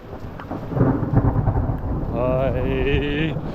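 Heavy rain pours with a loud, deep rolling rumble of thunder close by. Partway through, a steady wavering tonal whine joins the storm noise.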